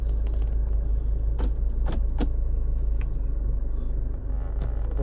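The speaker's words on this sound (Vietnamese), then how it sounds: "Đầu tiên là mình cảm nhận rằng chiếc xe này máy nổ khá êm." A 2008 Hyundai Santa Fe MLX diesel engine idling smoothly and quietly, a steady low rumble heard close up from inside the vehicle, with a few faint clicks and rattles over it and no talk.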